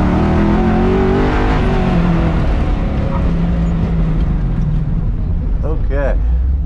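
A car engine roars loudly and steadily as it accelerates hard on an autocross lap at Crows Landing, with a voice speaking briefly over the noise.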